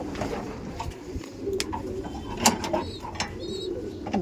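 Racer pigeons in a Kolkata loft give low, murmuring coos amid a busy background of rustles and small clicks, fairly faint and close-by, without speech.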